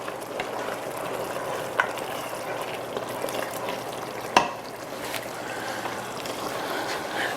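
A pot of egusi soup stew gets a quick stir, with a steady low bubbling simmer and faint spoon scrapes, one sharp clink near the middle; no talking.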